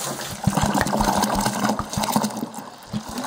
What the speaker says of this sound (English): so that the jerry, the 20 litre jerry can that the wort is in, is lighter to carry when I'm trying to pour it into a demijohn